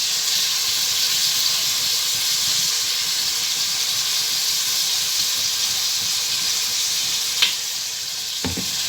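Medium onions sizzle in ghee in a pot, a steady loud frying hiss throughout, with a brief metallic clink of a spoon near the end.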